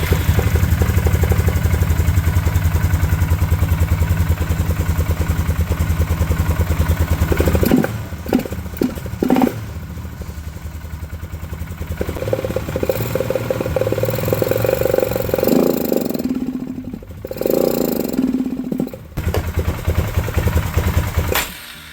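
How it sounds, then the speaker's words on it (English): A fuel-injected ATV/UTV engine fires up on starting fluid, a close, loud, clattering idle that runs for several seconds, then stumbles, revs unevenly and sputters in bursts as it fights to keep running. "Just give it a little bit of juice, starting fluid,"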